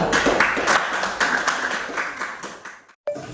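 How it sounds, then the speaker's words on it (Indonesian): Audience applause for a group after a classroom presentation, a dense clatter of many hands clapping steadily for about three seconds, then a brief silence before a voice begins. "tepuk tangan dulu untuk kelompok 2"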